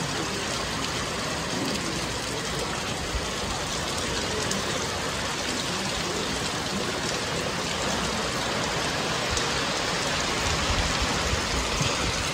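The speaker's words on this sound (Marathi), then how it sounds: "आणि पाऊस पण खूप जोरात आहे" Heavy monsoon rain pours down in a steady, dense hiss that fills the whole stretch, with water running and trickling beneath it and no pauses or talk.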